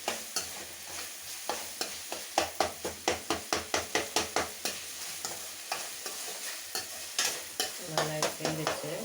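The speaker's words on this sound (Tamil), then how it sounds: "தக்காளி இதெல்லாம் நல்லா வந்து வதக்கி ஒன்று ஒன்றா கொஞ்சம் கூடுதலாகவும் சேர்த்து" Tomatoes are sautéed in a pan for vatha kuzhambu, the frying sizzle steady underneath while a spoon scrapes and knocks against the pan in a rapid, regular rhythm, close and fairly loud, with no voices.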